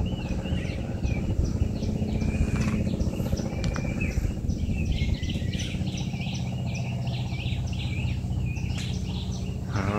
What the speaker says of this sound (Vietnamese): Ta nghe chim hót líu lo.